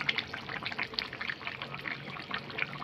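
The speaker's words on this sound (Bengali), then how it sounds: "এই দিয়ে দিলাম ঘি" Ghee is poured into a finished paneer and potato curry, a soft, faint trickling and dribbling lasting a few seconds, close by with light background noise and no speech.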